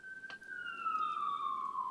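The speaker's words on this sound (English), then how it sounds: "Sorry about the sirens." A police siren wails in the background, its tone sweeping slowly downward over a couple of seconds, moderately loud against a faint room hum, with no talking.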